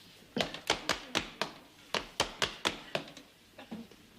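Rhythmic clip-clop tapping imitating a horse's trotting hooves, about a dozen crisp knocks in uneven pairs, close and fairly quiet with no talking.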